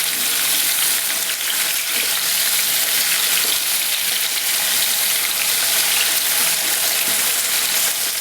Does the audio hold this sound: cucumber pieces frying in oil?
yes